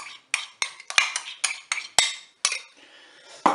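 A spoon clinks repeatedly against a Cookeo multicooker pot while a mustard and crème fraîche sauce is stirred, about ten sharp metallic taps in a quick irregular rhythm, close and fairly quiet, ending in a louder scrape.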